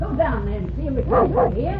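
A dog barks and whimpers close by in an old radio crime drama, several short yelps and whines mixed in with someone speaking over them.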